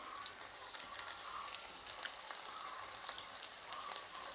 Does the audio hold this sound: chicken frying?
yes